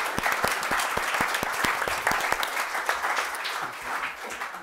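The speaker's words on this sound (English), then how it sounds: "I will ask you to give a wonderfully huge round of applause" Audience applause for a panel at a journalism funders event, many people clapping with sharp individual claps standing out early, then settling into a thinner, slightly fading patter.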